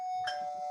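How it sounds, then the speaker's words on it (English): A single bell chime rung over an online meeting connection, struck once with a bright ringing tone that lingers softly after the hit. "so I ring your bell"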